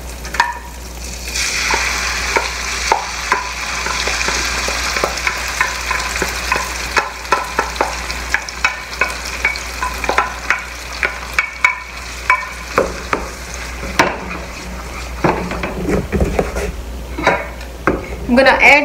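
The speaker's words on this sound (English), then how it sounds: "So now the oil is hot. I'm just gonna go ahead and add the dal in here." Dal sizzles in hot oil in a home kitchen pan while a spoon stirs it, giving a loud, close frying hiss broken by repeated clacks of the utensil against the pot, growing more rhythmic toward the end.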